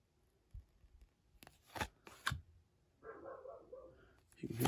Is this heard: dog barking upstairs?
yes